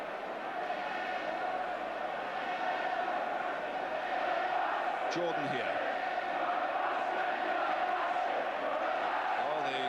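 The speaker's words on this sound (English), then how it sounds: "the cries of the Ipswich crowd much stronger than the Manchester United contingent" A football crowd at an Ipswich Town match against Manchester United gives a sustained roar with rising cries, a dense distant wall of noise under a commentator's voice.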